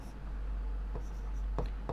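Writing on a board during a maths class, soft faint scratches and taps of the marker in brief bursts over a low steady hum, no talking.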